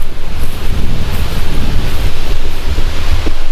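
Wind blows outdoors on a breezy day near a river, buffeting the microphone with loud, continuous low rumbling gusts and no voices.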